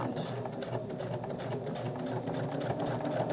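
A sewing machine stitches a seam on a fabric key fob holder, giving off a continuous, close whirring hum with a rapid mechanical pulse throughout the short stretch.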